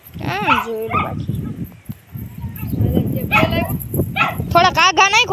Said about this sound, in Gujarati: આ આપણો કૂતરો છે